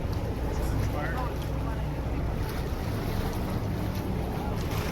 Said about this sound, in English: Waves hitting the coast,